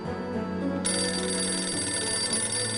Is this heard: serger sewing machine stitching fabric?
no